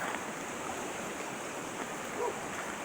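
Runoff pouring from the bottom of a residential driveway onto Searles Lane, a steady broadband rush of flowing water, close and even throughout with no talk.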